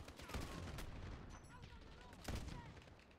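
Dense bursts of gunfire in the video game Call of Duty: Modern Warfare, loud and continuous with heavier blasts, while faint voices talk underneath.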